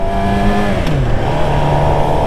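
A motorbike pulls away in first gear: a loud, close engine note that dips as the revs fall, then settles into a steady drone as the bike moves off.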